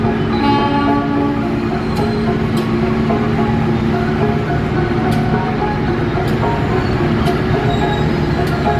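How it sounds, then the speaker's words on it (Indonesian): Locomotives and KRL commuter trains at Bogor station, including a CC 201 locomotive, rumble steadily and loudly close by with dense low engine drone, metallic tones and several short sharp accents, with no talk. "Momen tiga lokomotif ada di Bogor nih."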